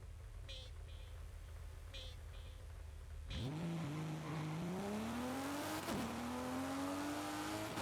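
A budget car in a racing video game launches off the line in a drag race, its engine climbing from idle into a rising roar that drops briefly at a gear change and then pulls up again.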